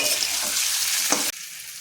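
Potatoes and spices stirred together and frying in a pan, a dense steady sizzle with a brief scraping stir near the end before the sound drops slightly quieter.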